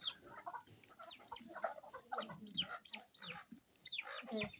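Chickens cluck in a farmyard near a clay bread oven, with repeated short calls from several hens overlapping at close range in a steady, busy rhythm, and no talk.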